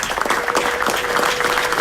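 An audience at a city council meeting applauding city staff, police, fire and park district representatives: dense, steady clapping from many hands filling the whole moment, fairly loud and close.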